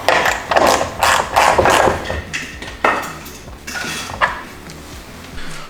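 Ratchet wrench snugging a wheel nut on a Husqvarna lawn mower with a Honda GCV160 engine: bursts of rapid metallic clicks in short strokes, close and fairly loud, with no talking.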